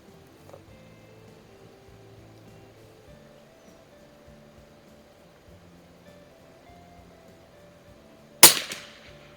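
A single sharp crack from an 1896 Schmidt Rubin .22 short target rifle fitted with a scope, heard near the end after a stretch of quiet low hum, with a brief ringing decay.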